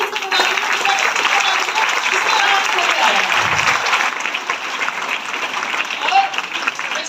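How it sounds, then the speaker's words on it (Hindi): Strong, sustained applause from a seminar audience in a Raipur hotel hall, a dense steady roar of many hands clapping that holds for several seconds. "तो एक बार जोरदार ताली आप अपने लिए तो बजा दीजिए"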